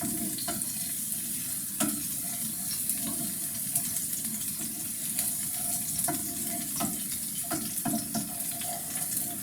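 Garlic frying in oil while cooking for baba ganoush, a steady close hiss and sizzle with small crackling pops throughout, no talking.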